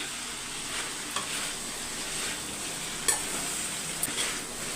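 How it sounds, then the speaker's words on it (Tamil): Potatoes go into a pan of frying peas kurma, giving a steady close sizzle with a few light stirring scrapes and clinks of a utensil against the pan. "இப்போ உருளைக்கிழங்கு சேர்த்துக்கலாம்"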